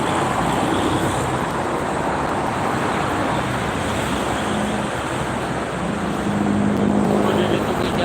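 Steady roar of heavy night traffic, trucks among it, on a busy toll road heading toward Jakarta, a dense continuous wash of tyre and engine noise with low engine hums surfacing, people talking faintly beneath.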